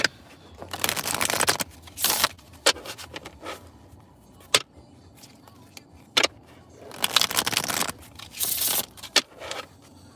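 A deck of timeline cards is shuffled by hand in repeated bursts of riffling and flicking, with short pauses between rounds, close and fairly loud.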